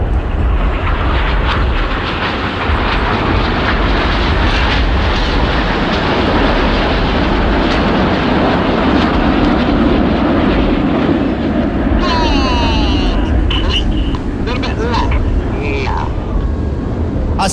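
Red Arrows jets flying an air display at Bournemouth Air Festival, a continuous loud roar of jet engines overhead under steady public-address commentary.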